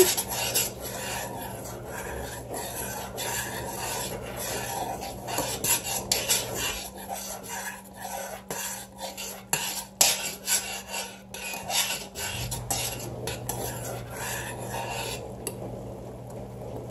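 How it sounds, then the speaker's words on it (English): A spoon scraping and rasping around a pot of boiling sugar wax mixture, steady close stirring strokes throughout with a low background hum, no talking. "Let's not let it boil over. So I'm just giving it a stir."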